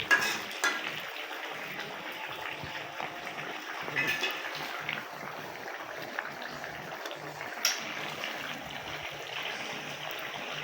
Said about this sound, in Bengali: এখন আমরা এর ভিতরে জিরার গুঁড়া দিয়ে তরকারিটা নামাই নেব